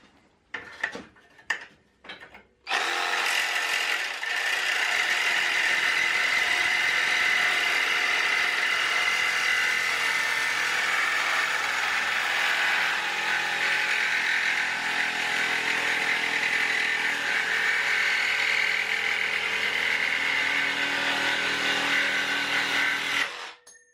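A DEDRA DED 7061 reciprocating saw cuts with a partly worn blade, its adjustable shoe positioned so the undamaged section of blade does the cutting. A few sharp knocks come first, then a loud, close, steady buzzing drone runs unbroken for about twenty seconds.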